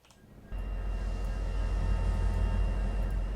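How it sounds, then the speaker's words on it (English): A steady low diesel rumble from an SD70M locomotive engine idling in the Trainz rail simulator, starting abruptly after a brief quiet moment and holding even and moderately loud, with no voices. "Normal engine sound will sound something like this"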